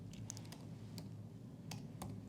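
Keys clatter on a computer keyboard as Python code is typed, a few quiet, close, irregular taps with short pauses between them.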